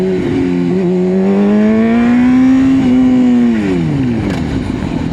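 A motorcycle runs at speed and then brakes hard. The engine's loud, close drone holds a steady pitch, then falls away as the bike slows.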